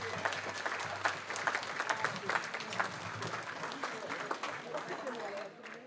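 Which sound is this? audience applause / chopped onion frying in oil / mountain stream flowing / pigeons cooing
audience applause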